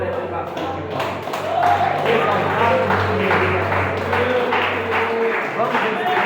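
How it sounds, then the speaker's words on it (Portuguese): A church congregation applauds during a teaching service, a sustained patter of many hands clapping beneath a loud voice speaking over it. "Palmas e glória a Deus."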